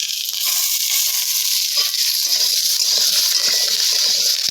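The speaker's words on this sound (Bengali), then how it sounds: "এবার দিয়ে দেবো কয়েকটা কারি পাতা।" Curry leaves dropped into hot oil while cooking a Bengali fish curry, giving a loud, continuous sizzle and spatter that lasts throughout and stands alone.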